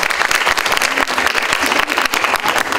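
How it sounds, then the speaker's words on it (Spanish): Sustained audience applause at a public hearing for children's school delegations in a city event, dense steady clapping from a sizable crowd filling the whole stretch. "Un fuerte aplauso para ellos."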